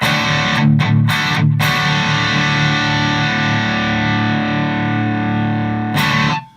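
Electric guitar played through a Hedgehog boost pedal rings out loud and thick, with a few quick strummed chords at the start, then a long sustained chord that holds before a final stab and abrupt cutoff.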